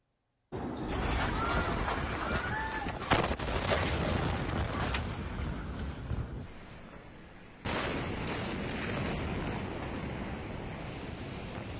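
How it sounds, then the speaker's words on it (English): Aftermath of a massive warehouse explosion in Beirut, Lebanon, in news footage: a loud, sustained roaring rumble with wind-like noise, a sharp jolt near three seconds, easing off and then resuming at full level after a brief dip. "A massive explosion has killed at least 50 people and left thousands injured in Beirut, Lebanon."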